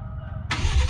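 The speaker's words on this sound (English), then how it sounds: "get a listen to the startup of the Raptor from the exhaust pipes" A 2019 Ford Raptor engine cranks and fires up, heard from the exhaust pipes: a low idle rumble suddenly bursts into a loud, deep roar halfway through.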